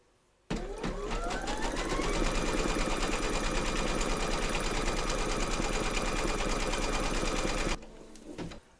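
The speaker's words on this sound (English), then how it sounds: "pop your hoop into your machine and stitch round number 1, and that's going to give you a placement outline for your batting" An embroidery sewing machine stitches a placement outline for a trapunto cushion cover, running steadily and loudly for about seven seconds with a fast mechanical chatter before stopping abruptly.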